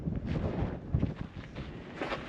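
Wind buffeting a microphone outdoors in the California desert, low rumbling gusts rising and falling steadily throughout, fairly loud with no talking.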